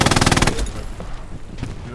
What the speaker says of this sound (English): set up the MG and just sit back and spam, well not spam but burst away